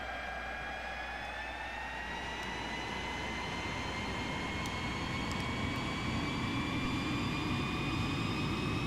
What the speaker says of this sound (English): Let's do our engine run up.